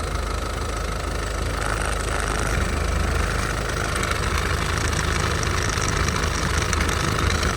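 A 2017 Ford Focus 1.5 diesel with manual gearbox idles steadily, a continuous close rumble with a fine diesel clatter and no change in pace.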